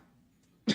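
A single sudden cough bursts out near the end after a stretch of near-silence, short and close, with no talk over it.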